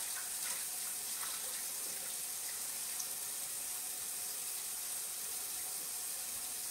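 Water runs steadily from a tap while gluten dough is rinsed to make seitan, a constant soft hiss and splash with no breaks and no voices.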